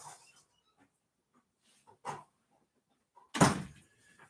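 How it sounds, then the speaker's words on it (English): A door being shut in a quiet room during a bourbon-tasting live stream: a few soft shuffles and bumps, then one sharp, fairly loud thud near the end. "I'm going to close my door."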